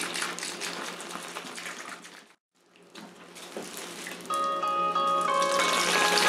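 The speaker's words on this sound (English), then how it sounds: "I'm just going to pour it into the container." Turkey brine poured from a pitcher into a container, a steady splashing gush of liquid that briefly stops, then resumes and grows fuller and louder as the container fills; no talking.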